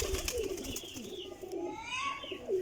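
Pigeons coo softly in a loft on a rainy day, the birds damp, a few low throaty calls repeating near and close under faint background chatter.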